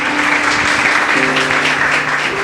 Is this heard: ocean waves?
no